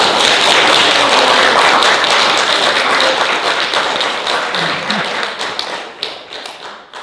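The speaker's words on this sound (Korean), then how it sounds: "박수 한번 치세요." Audience at a lecture forum applauding together, a dense, steady round of many hands clapping close and loud that thins out toward the end.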